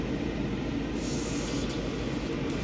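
An airbrush from a Gaahleri Serenair mini compressor kit sprays lacquer thinner in a continuous close, loud hiss with a slight pulse.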